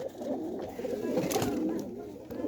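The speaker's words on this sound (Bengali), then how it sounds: "গোলা কবুতর, এই জন্য বের করে দেখাচ্ছি না।" Gola pigeons cooing inside a coop, a steady low murmuring of overlapping coos that continues throughout at close range, with no talk.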